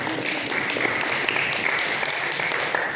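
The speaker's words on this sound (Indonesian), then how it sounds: "Tepuk tangan semuanya." A congregation at a Saturday young-adult church service applauds, a steady, dense wash of clapping that fills the room for about three seconds.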